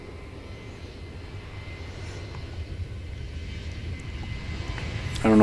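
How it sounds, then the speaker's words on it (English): An Asiana Airlines Airbus A380 jet at Seoul airport, heard as a steady broad engine roar with a low rumble that slowly grows louder as the aircraft gets closer, with no voices. "it's an A380 that is making the short hop to Tokyo Narita Airport"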